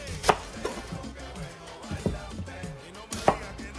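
A knife cuts the ends off onions on a cutting board, giving three sharp, separate chops spaced about a second apart over quiet kitchen background.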